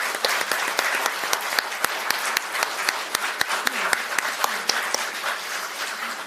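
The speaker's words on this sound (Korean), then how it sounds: "큰 박수 보내주시기 바랍니다" Audience applause at a Korean National Assembly Democratic Party floor leader election debate, steady dense clapping from a seated crowd of lawmakers with a few sharp individual claps standing out, sustained for several seconds.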